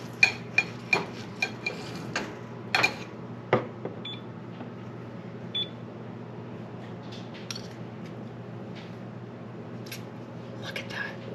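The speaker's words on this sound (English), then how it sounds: "And then cut up and get my steak on here." Knife and fork clink and scrape against a plate while cutting up a cooked steak, a series of sharp, close taps clustered early and sparse later, over quiet room hum.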